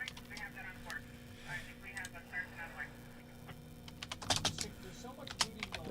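Computer keyboard typing: bursts of rapid clicking keys, close and moderately loud, with a person talking over much of it.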